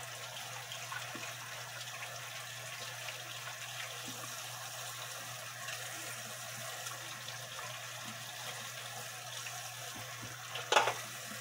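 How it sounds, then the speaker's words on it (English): Tap water runs steadily into a sink being filled with Dawn dish detergent water, a constant near hiss and splash with a brief louder clatter near the end. "So now I'm going to fill up the sink with some Dawn dish detergent water"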